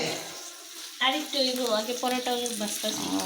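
Paratha frying in a pan, a steady soft sizzle that swells after the first second, with voices talking over it throughout.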